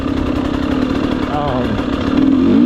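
GasGas EC300 enduro motorcycle engine revs close by, a loud buzzy two-stroke tone that wavers and climbs toward the end over a couple of seconds, alone without talk.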